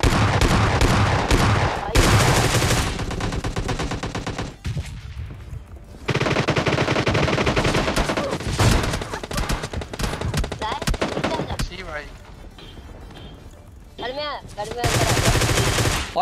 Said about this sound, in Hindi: ये भाई साहब खतरनाक डीपी का स्प्रे देते हैं यार, पूरी डीपी खाली कर देते हैं